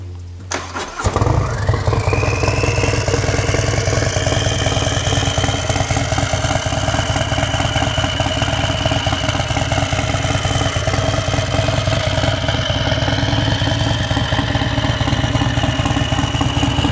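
Harley-Davidson bagger motorcycle with full carbon fiber parts, tuned by Trask Performance, cranks and fires up, then settles into a loud, steady, close idle rumble with no talk.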